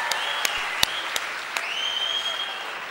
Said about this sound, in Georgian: აბა აპლოდისმენტები გაგამხნევებთ